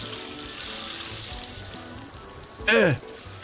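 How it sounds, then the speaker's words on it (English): Bacon fries in a pan with a steady, soft sizzle, then a brief louder hiss and splash near the end as something is moved; a faint voice is barely present underneath. "I hope you like the sound of sizzling, because you're gonna hear it for like 90 years"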